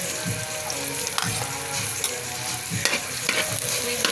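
Ginger hits hot oil in a frying pan while cooking laing, giving a steady close sizzle with spoon-stirring scrapes and clatter throughout.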